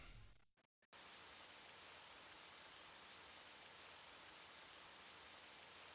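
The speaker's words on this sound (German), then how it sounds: "Auch hier regnet es jetzt." Steady rain falls in Jagged Alliance 2, a dense continuous hiss of drops that starts after a brief cut and holds evenly, moderately loud and alone.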